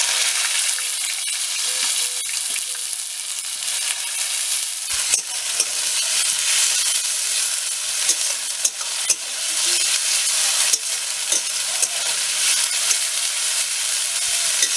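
Onion frying in hot oil with a little sugar in a pan, a loud, continuous close sizzle with frequent stirring scrapes and clicks throughout.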